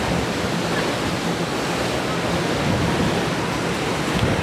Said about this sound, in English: this small trickle of a waterfall is all that's left of Bridaldale Falls